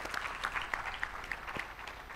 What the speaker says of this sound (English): Another applause for Professor Gadgil for pitching in with so